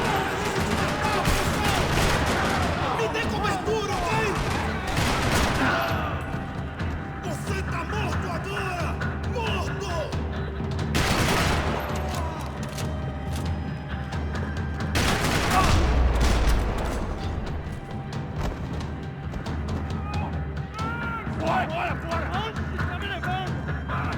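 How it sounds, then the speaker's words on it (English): Gunfire in a parking lot from the game Max Payne 3, with sustained bursts of rapid shots, repeated loud booming volleys and rattling automatic fire, interspersed with voices speaking over the action. "Another parking lot rattling with gunfire."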